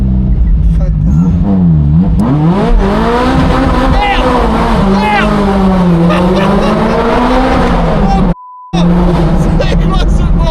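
Ferrari F40 engine howling near and loud as its tires slide, pitch rising and falling with revs and squealing rubber, a brief drop to silence near the end, with voices talking over it.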